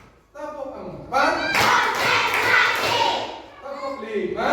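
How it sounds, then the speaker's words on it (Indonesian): In a classroom, children shout a rhythmic counting clap game in chorus with a teacher, mixing sharp claps with loud group voices. Each burst swells, then fades before the next count. "coba kalian tepuk 1, tepuk 2, tepuk 3"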